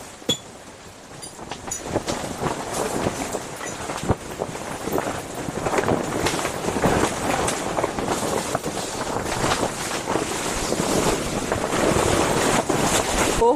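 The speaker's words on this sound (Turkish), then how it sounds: "Çok rüzgar var." Strong wind gusts buffet a tent during heavy wind and rain, with loud, sustained roaring and flapping that swells and surges throughout, close to the microphone.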